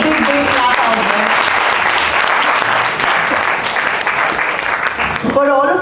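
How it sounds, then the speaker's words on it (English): Sustained applause from a seated audience at a school teacher-training session, loud and dense for several seconds, with a voice speaking briefly at the end. "Can we just give a big clap out there?"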